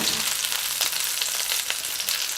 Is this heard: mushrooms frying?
yes